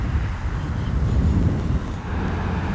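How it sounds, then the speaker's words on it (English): Strong wind gusting outdoors beside a pond, a loud, continuous low rumble buffeting the microphone with no other clear sounds over it. "Man, it's windy out here."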